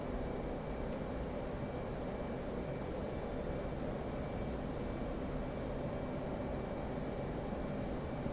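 Steady, loud jet engine roar from an F/A-18C in the DCS flight simulator, a continuous broadband rumble holding level throughout with no voices.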